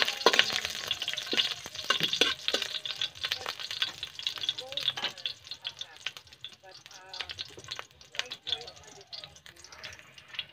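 Garlic frying in a pan while being stirred, an uneven crackling sizzle broken by sharp scraping and clinking strokes, fairly close and loudest at the start before settling into a softer spatter.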